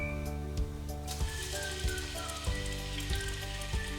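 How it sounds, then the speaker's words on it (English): Onion added to hot oil sizzles steadily and close by, a dense continuous crackle with a low background hum and soft periodic knocks. "I have some oil, hot oil, and to it I'll add my onion"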